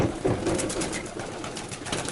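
Racing pigeons of Fabry and Janssen lines coo in a loft, a continuous murmur of low throaty calls close by, steady in level with light background noise.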